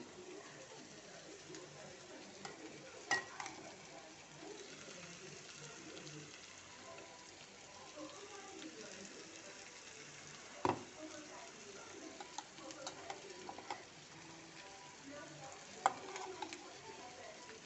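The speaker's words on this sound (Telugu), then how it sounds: "కొబ్బరి పొడి ఇది వేసుకొని కలుపుకుందాము" Ground coconut powder is stirred into fried flat beans in a pan, with a faint, steady sizzle and occasional soft scrapes and clicks of the spoon against the pan, quiet and close.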